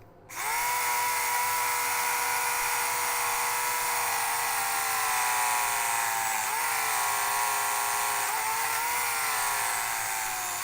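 A small Tamiya hobby kit drill motor spins up abruptly and whines steadily at high pitch for about ten seconds, with slight pitch dips as the load changes, close and loud with no talking.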